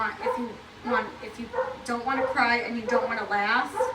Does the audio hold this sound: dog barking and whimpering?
yes